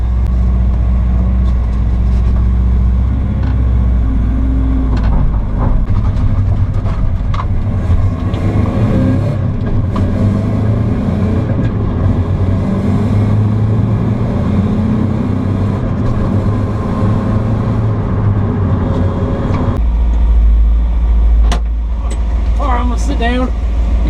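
A Mazda Miata drives along with a steady, fairly loud engine and road rumble that shifts as it accelerates and changes gear, while people talk over it.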